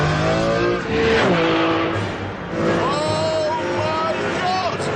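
A Maserati with a 6-litre V12 engine accelerates hard, its loud engine note climbing through gears with shifts and tyre noise, close and continuous, while someone talks excitedly over it.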